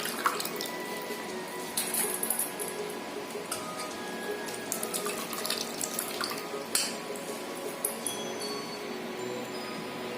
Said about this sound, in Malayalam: അവലൊന്ന് കഴുകിയിട്ട് നമുക്കിതൊന്ന് പിഴിഞ്ഞെടുക്കണം.